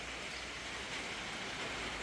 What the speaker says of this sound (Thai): ตอนนี้ฝน ตกค่อนข้างที่จะ หนักอยู่นะครับ